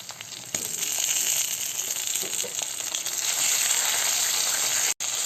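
Eggplant slices sizzle and crackle steadily in hot oil in a frying pan, a loud, dense hiss that runs continuously with one brief break near the end.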